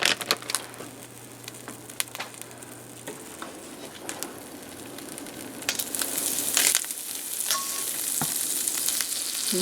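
Butter sizzling in a frying pan while breakfast burritos are made: a steady, close frying hiss with scattered clicks and scrapes that builds a little louder toward the end, with no voices.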